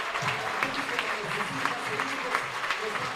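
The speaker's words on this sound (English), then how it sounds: "Please give them a big round of applause" A labor justice gathering's audience claps in a continuous round of applause, with a voice or crowd murmur woven underneath the steady clatter.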